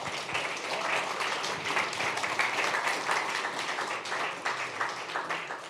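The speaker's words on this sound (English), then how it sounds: "A round of applause." An audience applauds steadily for several seconds at an evening event, dense continuous clapping at even loudness with no voices over it.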